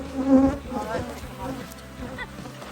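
Honeybees swarming around an open hive during a beekeeping inspection, a dense, close buzzing drone that swells and fades over a few seconds while frames are moved.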